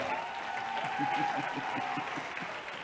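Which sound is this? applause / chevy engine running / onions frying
applause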